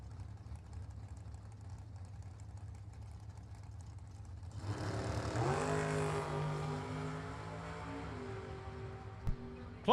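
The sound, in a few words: drag race cars launching, Oldsmobile Cutlass and rear engine dragster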